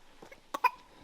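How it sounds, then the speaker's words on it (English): A person coughs twice in quick, sharp bursts inside an abandoned French chateau, fairly close and alone against a quiet room. "Are you coughing?"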